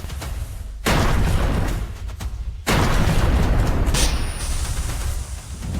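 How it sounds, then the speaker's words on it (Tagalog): Two sudden, loud bangs of car tires bursting close by, each followed by a sustained roar of rushing noise. "Sumabog ang mga gulong."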